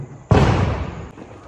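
A Diwali firecracker bursts with a sudden loud, close blast, followed by a broad crackling roar that slowly fades.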